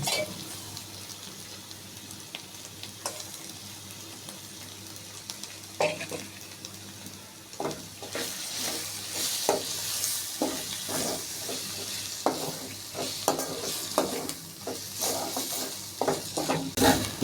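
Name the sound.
stirring yogurt into frying spice masala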